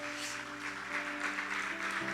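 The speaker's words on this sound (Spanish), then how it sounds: "denle un fuerte aplauso al Señor" A church congregation claps together for the Lord during a sermon, a steady wash of applause lasting the whole stretch, with sustained music tones underneath.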